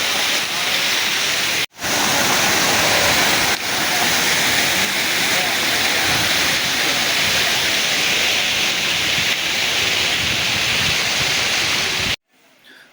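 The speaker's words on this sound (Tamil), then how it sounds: "சம்மர் சீசன்லேயும் தண்ணி வருதுங்க" Water pouring over Kodiveri dam in a loud, steady, close rush of white noise, with a brief dropout near the start and a sudden cut at the end.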